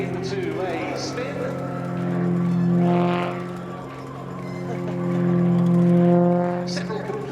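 An Extra 330LX aerobatic plane at an air display drones as it drops into a spin, the engine note swelling and fading twice in a slow rhythm from a moderate distance.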